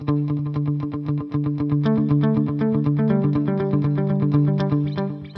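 Electric guitar run through a Line 6 HX Stomp vintage digital delay set to dotted-eighth timing, playing a steady, loud picked rhythm whose repeats interlock into a continuous, chorused, slightly distorted cascade of notes, with no talking.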